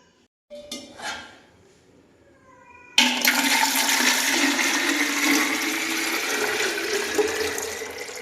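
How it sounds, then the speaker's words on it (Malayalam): After a few light clinks, water from a tap gushes steadily into a 2-litre drinking bottle, a sudden, sustained rushing stream that continues to the end. "ബോട്ടിലിൽ വെള്ളം എടുക്കണം"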